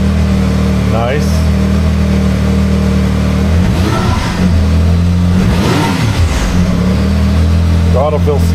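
A Ford Maverick R with an EVO E85 kit and stock exhaust revs up twice from a steady idle, loud and close, with each rev swelling and falling away.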